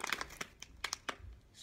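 Scissors cutting paper for friendship bracelets, a few quick crisp snips and crinkles close by, followed by a soft low rustle.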